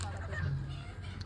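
Native country chickens clucking at a poultry farm as some birds are caught and taken away, a short, steady burst of close, busy fowl noise over a dense rumbling background.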